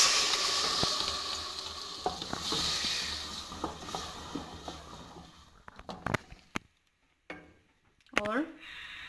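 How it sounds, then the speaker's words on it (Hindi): Spice paste hits golden-brown onions in a hot pan, a loud sizzle that fades over several seconds under a spoon's stirring and scraping, ending with sharp clatters and a brief voice. "प्याज हमारा गोल्डन ब्राउन हो गया है। अब हम इसमें पेस्ट शामिल करेंगे।"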